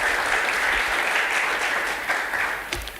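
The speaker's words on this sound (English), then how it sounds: "Let us clap for Michelle properly." Audience applause at an industry summit for a speaker named Michelle, a steady wash of many hands clapping that holds evenly and then thins slightly toward the end, with no talk over it.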